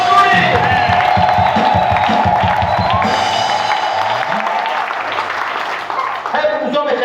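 A church congregation claps and cheers loudly and continuously, with rhythmic clapping strongest in the first half and a crowd of voices shouting and whooping throughout.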